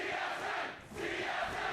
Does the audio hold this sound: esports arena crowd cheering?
yes